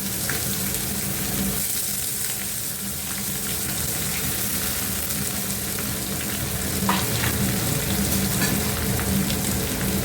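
Sliced onions fry in a pot of oil with cardamom, cinnamon and whole biryani spices for chicken tehari, a steady close crackling sizzle with occasional stirring scrapes and no talk.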